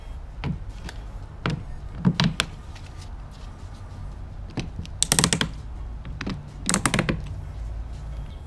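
Tile leveling wedges tightened with pliers on a wall tile install, giving a series of sharp plastic clicks and ratcheting bursts at irregular intervals, close up over quiet room noise.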